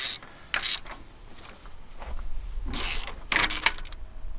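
A ratchet socket wrench works on a 1969 Oldsmobile Ninety Eight convertible, giving a few short bursts of rapid metallic clicking up close between quieter handling noises, with no talking.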